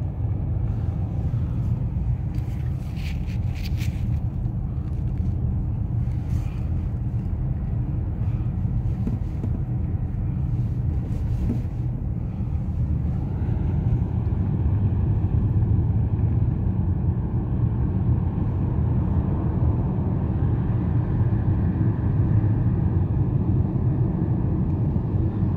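A car creeping through slow traffic past the Trinity-Sergius Lavra, its engine and tyres giving a steady low rumble inside the cabin, with a brief faint scrape early on and no voices.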